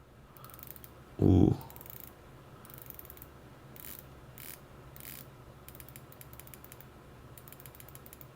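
The bezel of a Seiko Prospex SLA053 MM300 dive watch is rotated close up, giving a series of small crisp ratcheting clicks in short bursts, after a brief loud voiced exclamation.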